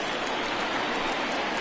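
Heavy rain pours down over a baseball field during a Marlins at Cubs game, a dense, steady hiss of falling water with no breaks.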